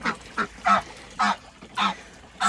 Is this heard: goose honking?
yes